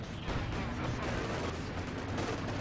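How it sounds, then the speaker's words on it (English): Stuka dive bomber rockets firing in a clan-match video game, a dense, continuous roar of overlapping blasts and rumbling explosions that fills the whole stretch with no pause. "Stuka firing."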